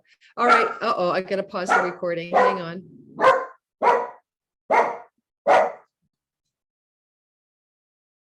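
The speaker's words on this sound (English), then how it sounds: "That was the dog that I'm babysitting, barking at the boyfriend of my daughter who just walked in the door." A babysat dog barks at someone arriving through the door, a burst of rapid close yaps and growly barks followed by four spaced single barks, with a person speaking over the start of the barking.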